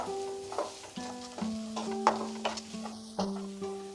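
Curry leaves, peanuts and capsicum frying over medium heat for an oats dish, a continuous sizzle with repeated spatula scrapes and clinks against the pan at an uneven rhythm, no speech.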